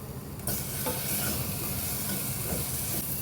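Peppers sauté with garlic in oil on lowered heat, giving a loud, dense sizzle that jumps up abruptly at the start and holds steady and close, with no voices.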